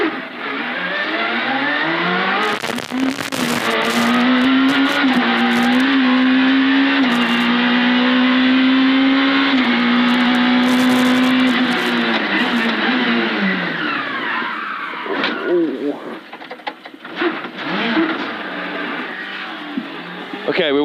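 A Super 1600 rally car on a special stage, driven flat out, its engine screaming loud and close with steady high revs and brief gear changes, then easing off near the end amid people talking.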